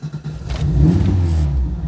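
A carbureted VW Gol square-body is started in cold weather: a short cranking sputter catches and the engine quickly roars into a loud, steady idle close to the microphone.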